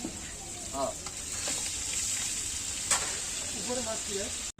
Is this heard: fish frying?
yes